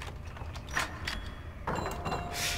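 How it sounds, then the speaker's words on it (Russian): In the horror game Little Nightmares, a door slides and rattles open with a few clunking mechanical knocks and scrapes, moderately close over a low ambient hum. "я тут открою двери"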